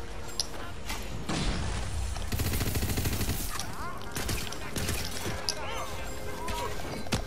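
Gunfire from Tiny Tina's Wonderlands crackles through a chaotic fight, with repeated sharp shots and bursts alongside crashes and thuds, while a voice talks over much of the action.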